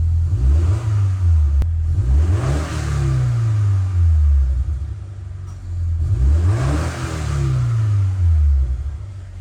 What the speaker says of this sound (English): Give it a little rev just to get the oil circulating.